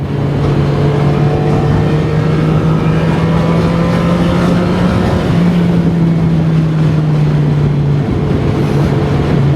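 A motorcycle engine held at full throttle, a loud, steady droning roar with a slight pitch rise and one brief dip midway, mixed with rushing wind noise throughout and close to the microphone.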